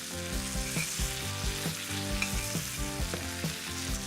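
Steak searing in a frying pan in butter with rosemary and garlic, a continuous close sizzle with rhythmic bursts of spattering as the hot butter is spooned over.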